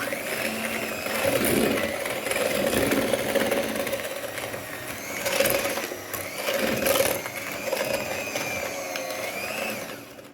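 An electric hand mixer beats cream cheese and sugar for cupcake frosting, whirring steadily and close by. The pitch rises and falls as the beaters work through the thick mixture.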